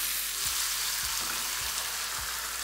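Garlic sizzling and frying in a pan, a steady bright hiss with a few soft stirring knocks, close and continuous with no voices.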